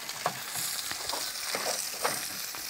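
Sausage and bacon sizzling on a grill, a bright, steady crackling hiss close by with occasional soft scrapes and taps of stirring.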